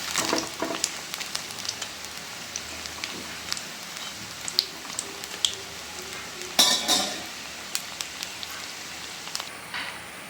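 Bonda made from idli batter frying in oil over a medium flame: a soft continuous crackle with scattered clinks of a utensil against the pan, no speech.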